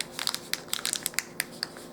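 A sealed plastic dollhouse miniature blind bag is squeezed by hand, giving a quick run of close, faint crinkling crackles in short irregular bursts.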